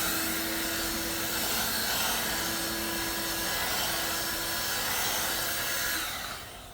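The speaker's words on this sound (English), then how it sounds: "one way to help that dry is you can use a heat gun on that" A heat gun blows a steady, loud stream of air across repaired car paint, a constant whooshing hiss with a faint whine that holds for several seconds before trailing off.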